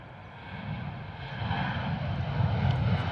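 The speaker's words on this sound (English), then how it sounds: "Here we go, next departure. Ryanair 737 off to Newquay." Ryanair Boeing 737 departing the airport, its jet engines a steady, fairly distant roar that gradually swells louder over a few seconds, with no other sounds on top.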